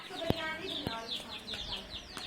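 A rooster crows amid clucking chickens and chirping birds, with a few sharp knocks and background chatter.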